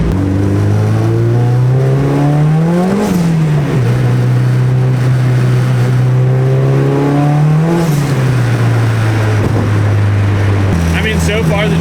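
A 600HP street car engine pulls hard under turbo boost, its loud, close drone rising in pitch twice before dropping back, with a shift-like step near the end.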